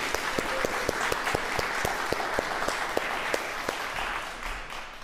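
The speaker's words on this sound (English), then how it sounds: "please join me in a huge round of applause to welcome our online viewers" Audience at a classical music concert applauds steadily, a dense even wash of many hands clapping with a few sharper individual claps standing out, sustained for several seconds in the hall.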